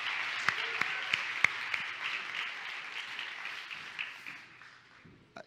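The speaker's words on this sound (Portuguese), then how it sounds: "Mais uma salva de palmas, gente." Audience claps warmly at a gathering, a dense patter with a few sharp nearby claps that gradually thins and fades toward the end.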